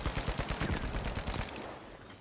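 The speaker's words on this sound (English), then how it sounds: "Oh, I'm getting sniped, I'm getting sniped." Rapid gunfire in the video game The Finals, a fast run of sharp repeated shots that fades in intensity toward the end, heard alone without talk.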